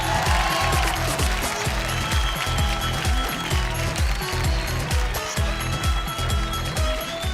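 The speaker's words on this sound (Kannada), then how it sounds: "ಚಪ್ಪಾಳೆ ಬರೋಣ, ಚಪ್ಪಾಳೆ" An audience claps for a guest coming onto a comedy show stage, a loud, continuous wash of applause over a steady rhythmic pulse, with no talk over it.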